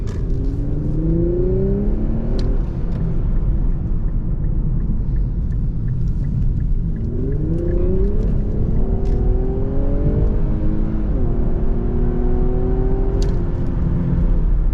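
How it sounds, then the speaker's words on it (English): A 2021 Infiniti Q60 3.0t with a 7-speed automatic accelerates hard down the road. A loud, continuous engine drone rises in pitch through several gear changes, heard from inside the car. "You can see just effortless acceleration. This thing absolutely flies effortlessly down the road."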